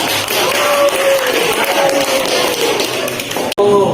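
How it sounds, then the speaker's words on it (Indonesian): Classroom clapping for a student group, a dense patter of hands sustained for several seconds with a teacher's voice and murmurs over it, ending in a sharp knock. "boleh tepuk tangan untuk kelompok 2 sudah bisa"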